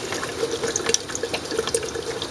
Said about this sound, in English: just adding that little bit of boiling water